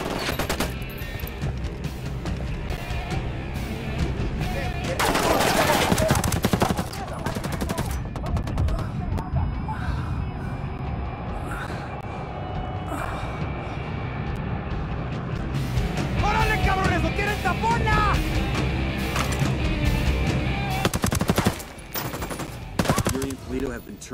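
Gunfire in the video game Ghost Recon Wildlands: loud sustained bursts of automatic weapons fire and rapid shots fill the scene, with a voice and vehicle noise mixed in.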